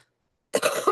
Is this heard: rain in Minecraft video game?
no